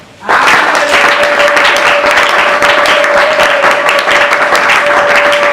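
A church congregation bursts into loud, sustained applause and cheering that starts abruptly and holds steady, with a faint held tone underneath and scattered voices in the crowd.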